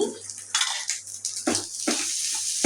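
Rice tipped into a coconut mixture in a pan and stirred for coconut rice, giving a run of close scraping, clinking utensil strokes against the pan with a low steady hum underneath, and no voices.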